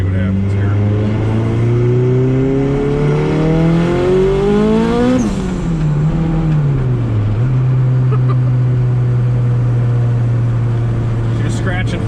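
Turbocharged Honda EF hatchback with a small 1.6-liter B16 at about 10 pounds of boost, rolling onto the throttle in third: a loud engine note climbs steadily in pitch, drops sharply mid-pull, then settles into a steady drone.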